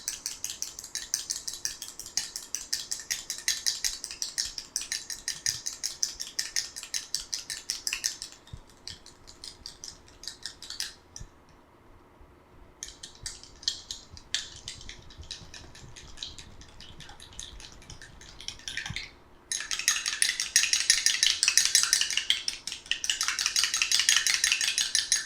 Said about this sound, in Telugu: స్టిక్కీనెస్ తగ్గాలి అంటే మనం ఈ విధంగా బీట్ చేసుకోవాలి